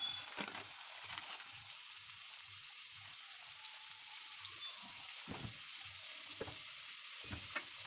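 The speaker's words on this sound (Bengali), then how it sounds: "এই দেখেন এতটা বাটার আমি দিয়ে দিলাম কড়াইতে" Butter sizzling in a wok for spinach butter chicken, a steady soft frying hiss with several louder spatters and utensil clinks, close and fairly quiet.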